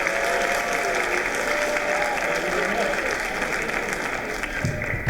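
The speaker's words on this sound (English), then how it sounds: "All right, so let's give him a big round of applause." A school audience at a writers' week event applauds a visiting writer with sustained, even clapping that fills the room for about five seconds, with some voices mixed in beneath it.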